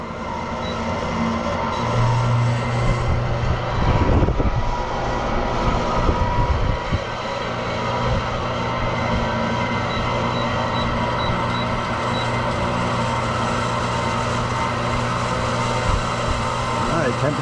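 A portable heating and cooling unit running on cool in a tiny house or RV, giving off a loud, steady blowing roar with a constant hum, briefly disturbed by a few knocks early on.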